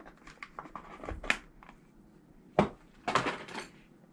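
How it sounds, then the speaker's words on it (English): A craft knife cuts into a plastic bottle, making faint crackles and several sharper crunching snaps, the loudest about two-thirds of the way through, with no speech. "go ahead and start cutting your bottle"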